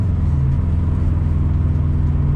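A Subaru STI with an unknown fault running during an attempted downshift, a steady close low engine rumble and drone inside the car with no pop or sharp change.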